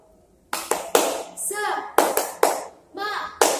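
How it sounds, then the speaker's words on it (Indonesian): A primary school class does the rhythmic tepuk semangat cheer: bursts of clapping in a patterned rhythm alternating with chanted children's and teacher's voices, close and fairly loud. "Sebelum itu, kita tepuk semangat dulu yuk."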